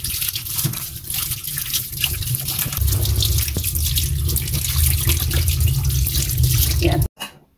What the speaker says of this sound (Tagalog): hugasan natin isa-isa para malinis na mabuti